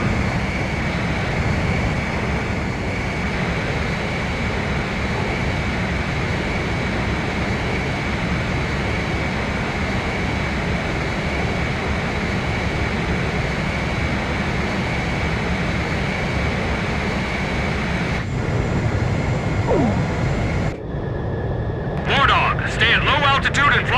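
Jet aircraft engine roar during aerial refueling in the Ace Combat 5 video game, a loud steady drone throughout, with game sound effects and voices near the end.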